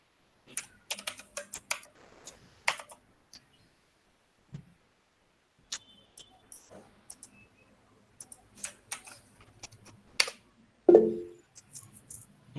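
Computer keyboards clatter in scattered bursts of quick keystrokes during a game development workshop session, with irregular pauses between runs of clicks and a louder thump near the end.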